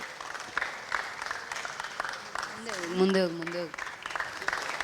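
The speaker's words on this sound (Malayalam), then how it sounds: "നല്ലൊരു കൈയടി പ്ലീസ്." Audience applause at a barrier-free India megashow, moderate clapping spread through the clip, mixed with talk and a brief sung or tonal voice in the middle.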